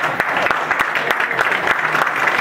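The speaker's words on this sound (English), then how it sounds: "I'm not here for the clapping, I appreciate it" An audience at a city director candidate's talk claps, steady, dense applause with sharp individual hand claps, loud and sustained for a few seconds.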